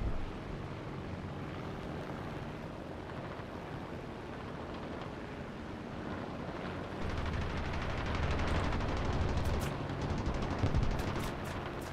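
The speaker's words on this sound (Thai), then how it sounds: "โอ้ยปืนยังยิงได้อยู่" A-1H attack aircraft in War Thunder, a constant engine drone with artillery rumble, then short bursts of rapid gunfire crackling over it toward the end, no voices.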